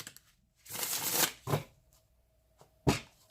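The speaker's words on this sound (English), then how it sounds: "I'm going to shuffle one more time" Tarot cards shuffled by hand in a few quick riffling bursts, close and crisp, separated by short pauses, with no talking.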